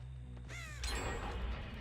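A crow caws once in the Dead by Daylight match, a short harsh call standing out over the steady game background.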